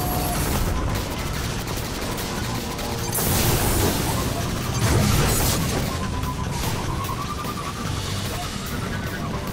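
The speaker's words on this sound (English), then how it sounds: "You realize being in first means more things will be shooting at us?" Dense, rapid gunfire and explosive blasts fill a Sparrow race in a video game, with loud bursts and crashes layered over engine roar, and voices talking through the action.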